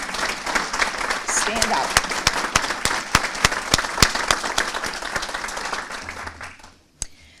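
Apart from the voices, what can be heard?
audience applause at city address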